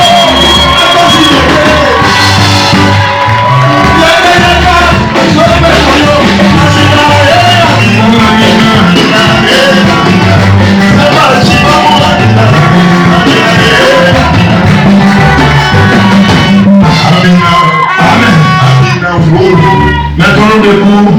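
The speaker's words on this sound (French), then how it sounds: "Confirmez cela par des acclamations et cris de joie." A loud church congregation shouts and cheers continuously at an ordination service, voices blending into a sustained roar of joyful yelling.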